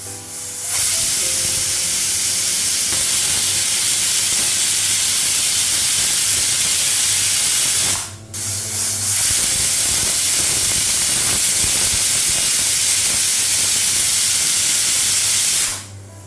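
A home pressure cooker on a gas stove vents steam in loud, harsh whistling hisses: two long sustained blasts, each lasting around seven seconds, separated by a brief drop, with no one speaking.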